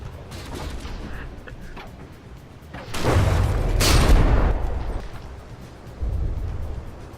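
Naval gunfire and explosions between warships in the game From The Depths, heavy booming blasts and a rumbling barrage that swell loud in the middle, then another burst near the end.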